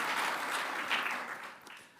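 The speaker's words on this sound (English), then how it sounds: "A round of applause already, that's fantastic." A room of attendees at a social media trends briefing breaks into applause, a full burst of clapping that gradually thins and fades over two seconds.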